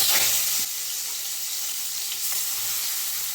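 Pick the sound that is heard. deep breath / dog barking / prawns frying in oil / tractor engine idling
prawns frying in oil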